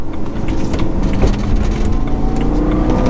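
Supercharged E90 BMW M3 engine droning loudly and steadily from inside the car while driving, a continuous low roar with slight swells in pitch and no talk.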